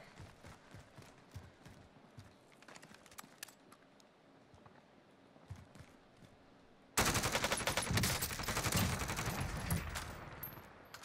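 Turret gunfire in the video game Warzone: faint scattered shots at first, then a sudden loud stretch of rapid automatic fire that continues to the end.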